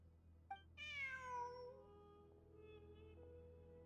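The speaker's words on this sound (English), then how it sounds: "Look, a cat." A cat in Genshin Impact gives one clear, drawn-out meow, close and fairly quiet, over a low steady hum, followed by a softer trailing note.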